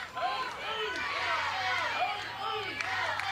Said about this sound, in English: Buzz in this ballpark. Nice crowd on hand.